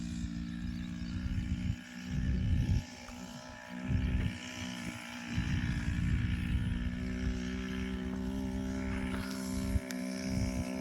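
A motorized pesticide sprayer drones steadily while spraying a groundnut field outdoors, its engine rising and dipping in a loud, continuous rumble for the whole stretch.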